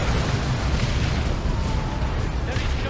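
A Manticore missile strike exploding in Warhammer 40k Dawn of War 2, a loud rumbling blast of booms and bursts running through the whole moment.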